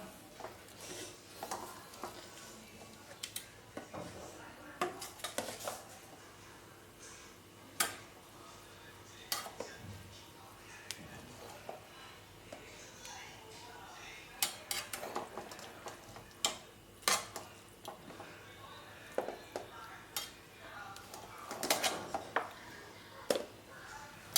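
Chicken biryani served into a dish from a pressure cooker, with scattered clinks and scrapes of a spoon against metal and light tapping, fairly quiet and close, with a voice speaking briefly.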